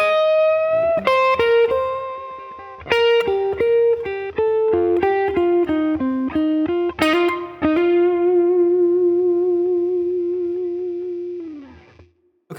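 Slow, laid-back blues lead on distorted electric guitar with effects, a phrase of sustained notes with bends and vibrato, ending on a long held note that fades out. No talking.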